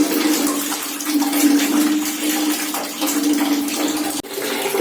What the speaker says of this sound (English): And hot water coming out now.